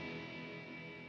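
Electric guitar played through the Eventide Tverb reverb plugin used as an insert, a brief dense wash of heavily reverberant sustained tone with no clear attack, alone and moderately quiet.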